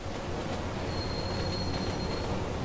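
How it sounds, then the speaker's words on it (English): A train arrives in a video game, a steady rumbling roll of wheels on track with a thin high squeal of brakes through the middle, loud and continuous. "Do I have to order the train here?"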